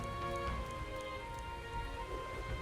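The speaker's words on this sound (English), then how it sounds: "Rain." Rain falls in the video game Metaphor: ReFantazio, a soft, steady patter under sustained musical tones, with no speech.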